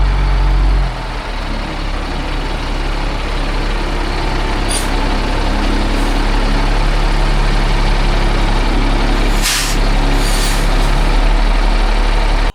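An LMTV military truck idles steadily at close range, its heavy diesel rumble constant while the air system builds pressure, with short hissing bursts of air partway through and again near the end.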